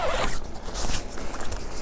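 Zipper on the door of a Gazelle T4 pop-up tent being pulled open, a loud, close, continuous raspy zip with slight variations in pace over about two seconds, heard alone.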